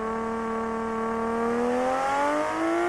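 Nissan Skyline GTR R34 engine in the video game American Truck Simulator, a steady rising rev with a strong tonal whine that climbs in pitch over a few seconds, loud and continuous with no voices.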